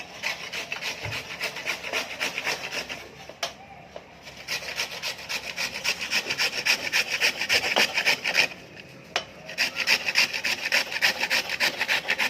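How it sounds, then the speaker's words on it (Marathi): Raw mango, already peeled, being grated for a quick murabba, giving a steady rhythmic rasping scrape, stroke after stroke, close and fairly quiet, with a couple of short pauses between runs. "वरची साल काढून मग ते किसून घ्यायचं. तर आता किसून घेऊया."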